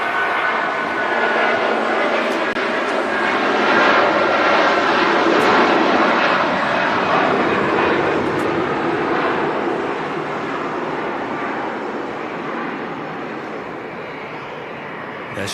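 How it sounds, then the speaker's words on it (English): A Wamos Air Airbus A330 jet takes off at Manchester Airport, a loud, sustained engine roar that swells and then slowly fades as the plane climbs away, with someone speaking over it. "Wamos A330 blasting off"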